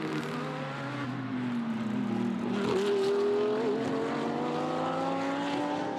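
Several race car engines at Magny-Cours drone at high revs, pitch rising and shifting as the cars battle for position, heard at a moderate distance with no voices.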